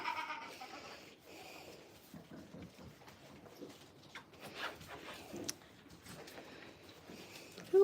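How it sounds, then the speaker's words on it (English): Goats bleat on a farm, several scattered calls near and far over a quiet outdoor background, with a brief voice now and then. "Now we have even more goats out."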